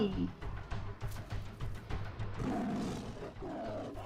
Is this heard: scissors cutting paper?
no